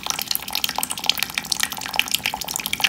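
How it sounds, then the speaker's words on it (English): A paintbrush is swished and rinsed in a container of water, giving a steady close, soft trickling and dripping with small splashes throughout. "I'm kind of rinsing it"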